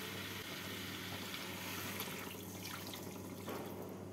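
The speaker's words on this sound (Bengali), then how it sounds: "এবার এর মধ্যে আমি দিয়ে দেবো 2 কাপ জল।" Two cups of water are poured into a pot of potatoes and fish head for muro alur ghonto, making a faint, steady, continuous rushing wash with no break.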